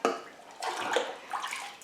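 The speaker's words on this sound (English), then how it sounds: "I don't like water flowing that way, if I can help it." Tap water runs into a sink to water orchids, a close, soft, steady splashing flow that swells and ebbs for about two seconds, with no talking.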